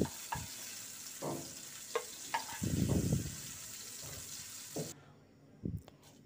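Panch phoron, a bay leaf and two dried chilies frying in a little oil in a pan for a spiced eggplant pickle, with scattered stirring scrapes and a louder burst of sizzling midway, then quiet tail.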